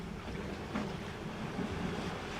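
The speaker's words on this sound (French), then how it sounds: "Si vous connectez avec le son des vagues" Ocean waves wash in with a soft, steady rush of surf and a low wind-like roar, swelling slightly a couple of times, with no voices.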